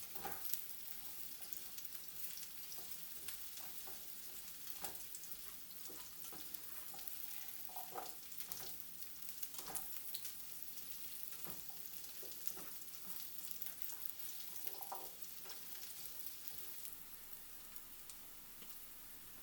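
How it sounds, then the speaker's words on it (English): Pumpkin and sweet potato pieces frying in oil in a skillet, a continuous soft crackling sizzle with scattered pops and spits, heard alone at a low level throughout. "After dumping the pumpkin and the sweet potato into the oil, I immediately try to cover all the pieces with oil."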